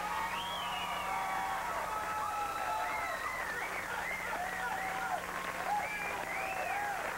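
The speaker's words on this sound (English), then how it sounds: "by your applause, I want you to indicate who won the match" A television talk-show studio audience applauding to pick the winner of a women's boxing match, with sustained clapping under rising and falling whistles and cheers that keep going at an even level.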